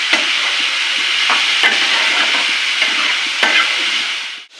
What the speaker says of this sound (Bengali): আর এখন এখানে সবজিগুলো ভাজছি